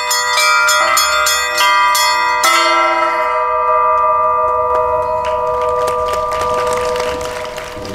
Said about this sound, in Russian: когда слышат колокольный звон, они даже останавливаются и слушают.